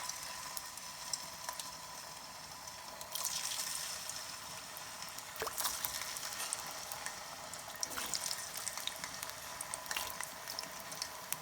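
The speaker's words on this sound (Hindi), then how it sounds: "ये अब हमारा तेल गर्म हो चुका है, तो इसमें हम डाल देंगे हमारे आलू तलने के लिए" Potatoes fry in hot oil over medium heat as part of chicken vindaloo cooking, a steady, faint, continuous hiss with small crackles, heard alone.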